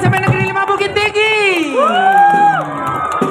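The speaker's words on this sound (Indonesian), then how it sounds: "Mana tepuk tangannya SMP Negeri 5 Bukit Tinggi" Crowd cheering and shouting at an Independence Day allegorical street parade in Bukittinggi as SMP Negeri 5 Bukittinggi passes, with a tambua and marching band performance; loud, close voices, whoops and sweeping calls over dense babble.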